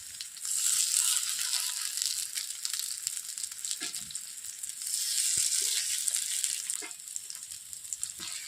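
Kulekhara leaf fritters made with ground rice batter sizzle in hot oil, a continuous bright crackling hiss with small pops and occasional clinks, close and steady throughout.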